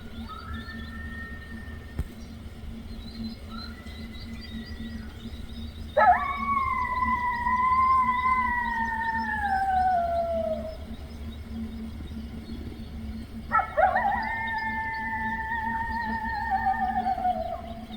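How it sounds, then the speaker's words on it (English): At dawn in Elk Island National Park, a coyote pack howls in two long, sliding wails over a low steady background hum. Fainter, more distant howls come in between them. "you can hear that they're communicating with other packs of coyotes from all over the park."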